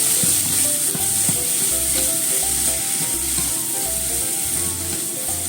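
Grated carrot and shirasu sizzle gently in a frying pan over low heat, a steady close crackle that never lets up. Occasional soft scrapes and stirring thumps sit under it, and nobody speaks.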